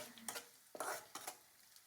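Capsicum frying in a pan, heard as quiet brief stirring scrapes and a soft sizzle in three short bursts, faint and without any voices.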